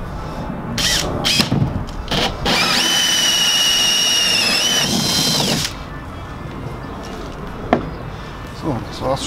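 A power drill bores a larger hole for the filler neck of a fresh water tank during a Sprinter van conversion, whining steadily for about three seconds between short bursts and clunks of handling.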